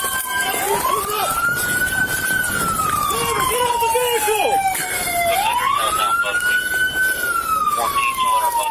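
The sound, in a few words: police car sirens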